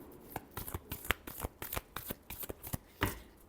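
Tarot cards riffled and shuffled by hand in a run of quick crisp flutters and soft slaps, close and clear with no talk.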